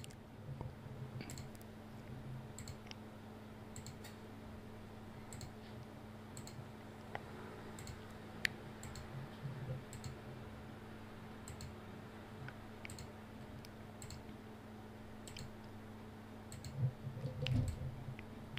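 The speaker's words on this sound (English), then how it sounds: "left clicking all of them" A computer mouse is left-clicked again and again while editing missions for the game America's Army, giving quiet, irregular clicks over a steady electrical hum with no talk.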